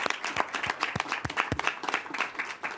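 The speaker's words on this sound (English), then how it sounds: "He deserves a round of applause for that." Scattered, uneven hand clapping from a modest audience at a Fort Worth ISD school board meeting, with distinct individual claps and a steady patter throughout and no talk over it.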